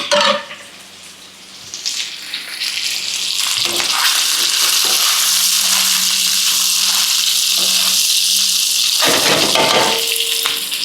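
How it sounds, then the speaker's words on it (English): Pork pieces return to a hot wok with garlic and onion for pancit bihon guisado, bursting into a loud, steady sizzle that holds for most of the clip after a few stirring clatters near the start. "Now we're gonna place our pork back in the dish, or in our wok."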